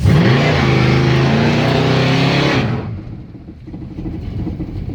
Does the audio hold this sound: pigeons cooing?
no